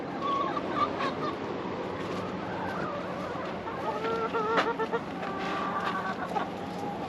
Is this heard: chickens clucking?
yes